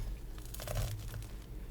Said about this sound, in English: You hear that crisp, that crunch.